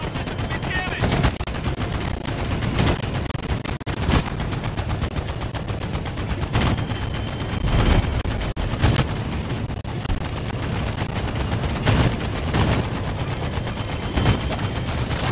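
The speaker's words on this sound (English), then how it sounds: "Just look where you want to shoot, then squeeze the trigger to fire." Repeated gunfire bursts crack through the video game Medal of Honor: Above and Beyond, loud and close. Shots come every second or so over a steady rumbling background.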